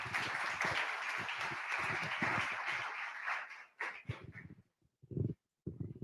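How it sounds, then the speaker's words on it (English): An audience at an evening charity pitch event claps in a broad, even round of applause that runs for several seconds, then stops abruptly, leaving a few scattered sounds. "Please give them a round of applause."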